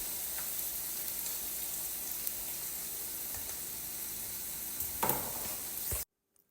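French fries sizzling steadily in hot oil for a loaded fries snack, a dense even crackle with a brief louder burst near the end before cutting to silence.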